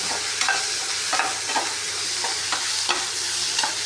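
Onions frying in hot oil for a mango pachadi, stirred steadily with a spoon, giving a continuous close sizzle broken by soft periodic scrapes, with no talking.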